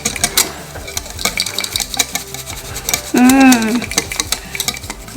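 Chia pudding ingredients being whisked together in a bowl: quick, rhythmic clicking and scraping strokes continue throughout, with a brief voice speaking partway through.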